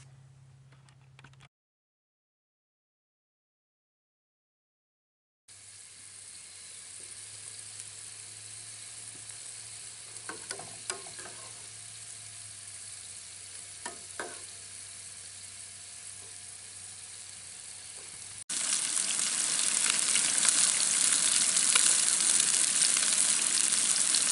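Potatoes fry in a cast iron pan at an outdoor scout camp cookout, a steady broadband sizzle running on with a few soft clicks and stirs, then growing louder and harsher toward the end.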